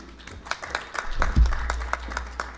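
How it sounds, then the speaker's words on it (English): An audience at a school's annual parenting conference claps for a parent called up to lead prayers. The claps are scattered and fairly sparse, with a low rumble swelling briefly in the middle. "Please, can we clap for him?"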